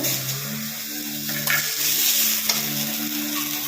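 Dried red chillies, garlic, tomato and onion sauté in oil for a coriander chutney, a soft sizzle broken up by a few scraping stirs of a spoon against the pan, heard up close with no talking.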